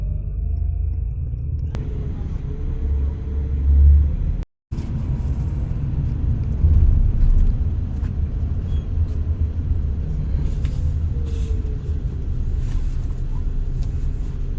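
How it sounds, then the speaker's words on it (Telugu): A Volvo 9600 bus pulls away and drives on, its steady low engine rumble and road noise continuous throughout, with a brief drop near the start and a slight swell mid-way. "ఒక పది నిమిషాల బ్రేక్ తర్వాత మన బస్ తిరిగి బయలుదేరింది"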